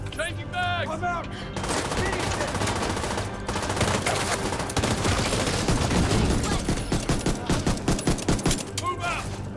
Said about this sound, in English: It's kicking off. Gunfight going on, isn't it?